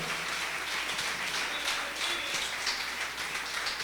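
Congregation at a Spanish-speaking church, Iglesia Nueva Jerusalén, claps for the Lord, a continuous hiss-like wash of many hands at moderate volume with no voices standing out.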